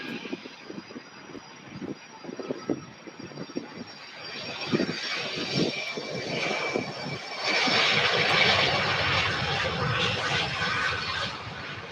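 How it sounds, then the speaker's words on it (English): A UPS Boeing 767-300 jet taxis at Louisville airport, its engines making a steady broadband roar that builds and grows louder partway through, with a high whine running above it and no talk. "This is a UPS 767-300."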